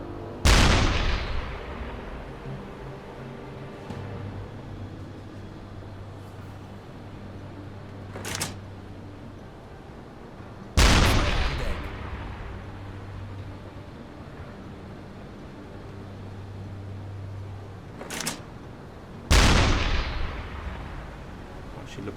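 Heavy deck-gun fire from a U-boat pounds a British merchant ship in the submarine game UBOAT, three loud booming shots spaced roughly eight seconds apart, each with a long rumbling decay over a low engine drone and smaller distant impacts.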